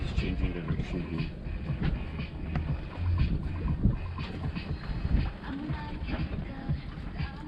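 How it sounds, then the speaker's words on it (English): Wind gusts unevenly across a sailing boat, buffeting the microphone close by with rough rumbles and scattered knocks and creaks. "Wind is playing with us today."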